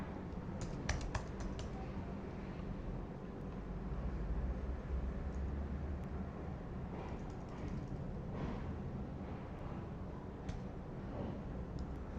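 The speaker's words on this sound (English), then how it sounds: "start typing record name" Typing on a computer keyboard, faint scattered key clicks over a steady low background hum, with bursts of quicker taps near the start and in the middle, no voices.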